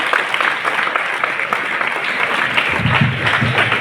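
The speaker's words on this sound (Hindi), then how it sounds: "जोरदार तालियों से स्वागत कीजिए।" Loud, steady applause from an audience welcoming Mrs. Aarti Maurya at a school program, dense clapping filling the room without pause, with a deeper rumble of claps joining in toward the end.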